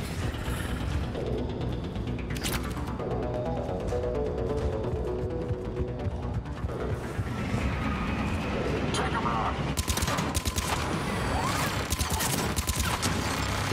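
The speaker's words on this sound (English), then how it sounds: "Is there a turret shooting at me somewhere?" Turret fire aimed at the player in Mass Effect 3: bursts of sharp rapid gunfire and impacts break out amid battle noise, louder near the end, while a person talks over it.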